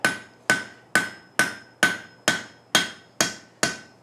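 Hammer striking hot steel on an anvil while scarfing the edge of a forged boot scrape, nine evenly spaced ringing blows about half a second apart, close and loud with a metallic ring after each hit.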